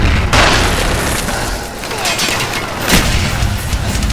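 An RTXD strike explosion in a shooter game, a loud booming blast with heavy rumbling and bursts that keep pounding across the clip.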